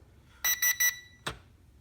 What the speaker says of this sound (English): until you hear a beep and see some flashes